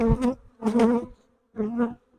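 Newly hatched young honey bees buzz at a hive in three short, close bursts of droning hum separated by brief pauses.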